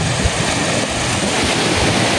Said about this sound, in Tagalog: Dagko kay balod oh. Grabe balod ang dagat.